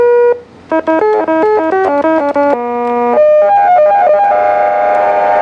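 A circuit-bent Casio keyboard's buzzy electronic tones step through a quick run of notes, then settle into a sustained, slightly wavering chord that rings on loudly.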